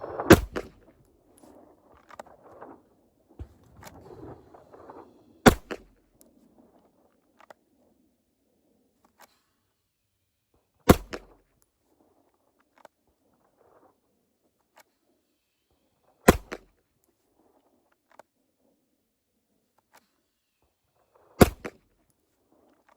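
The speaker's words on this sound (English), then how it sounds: "I'm going to draw and fire 1 round, and I'm going to do it 5 times." A handgun fitted with a Holosun 507c red-dot optic is drawn and fired one round at a time, giving five sharp, loud single shots roughly five seconds apart, with quiet handling sounds between them.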